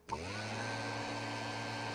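Vacuum cleaner in the Toca Boca video game, switching on abruptly and then droning steadily with a whooshing, whining suction tone, close and alone.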